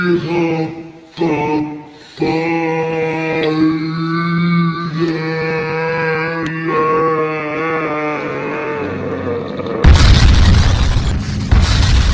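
A cartoon self-destruct explosion goes off as a loud, sudden boom after several seconds of sustained tonal sounds, then rumbles on near and full until the end.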